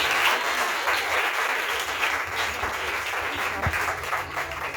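A church congregation applauds with a dense, steady wash of many hands clapping, sustained and fairly loud throughout.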